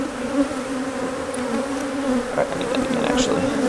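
Honey bees from a strong hive in winter make a dense, steady buzz close by, a continuous hum with no voices.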